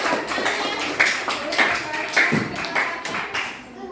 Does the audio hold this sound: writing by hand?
no